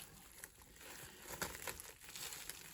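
Plastic wrap crinkles while it is folded over a rolled pork chop pinwheel, a soft, continuous rustle with a few sharper crackles, heard close and quiet with no talk.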